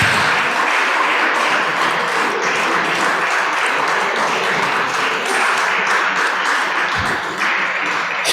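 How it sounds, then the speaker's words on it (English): Sustained applause from a large audience at a legislative stakeholders' event in Nigeria, a steady dense clapping wash that fills the whole stretch at even loudness. "Please put your hands together for them."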